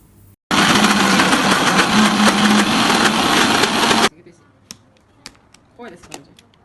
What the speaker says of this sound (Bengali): তো আমি এ পর্যায়ে বাকি তেলটুকু অ্যাড করে নিচ্ছি। আর তেল দিয়ে আমি আবারও ভালোভাবে ব্লেন্ড করে নিব।